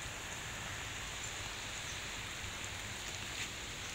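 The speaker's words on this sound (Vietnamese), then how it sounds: "mà giờ trời mưa tới bạn nè, bạn xem nè" Rain falls steadily outdoors as a faint, even hiss that holds at the same quiet level throughout, with no voices.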